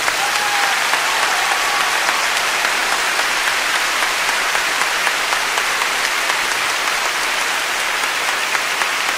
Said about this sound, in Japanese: もう一度、皆さんに大きな拍手をお願いします。